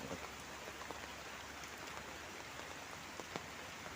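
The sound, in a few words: rain easing off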